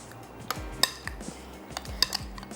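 A spoon clinks and scrapes against a bowl as buttermilk, black pepper and hot sauce are mixed, producing a quick, irregular run of light metallic taps at close range.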